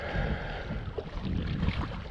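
Strong wind buffets a microphone on a lakeshore during bank fishing, a continuous low rushing roar with uneven gusts swelling and fading.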